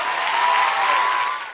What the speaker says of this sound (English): Give a man an applause, please.